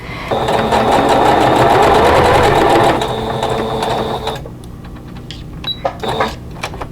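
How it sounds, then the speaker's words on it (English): A sewing machine stitches fabric for a quilted table runner with a fast, steady whirring rattle, loud and close, then stops, leaving light clicks and handling noises. "I have my machine set so that my needle will be down in the fabric when I stop."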